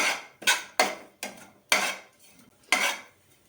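A spoon stirs grated dried coconut in a metal pan over the stove in about six distinct scraping strokes, each a loud, close rasp against the pan that fades before the next.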